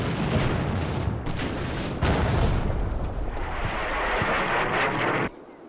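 Heavy artillery shells come in during a war video game: a loud, continuous barrage of rumbling booms and crashes that persists for several seconds before cutting off abruptly.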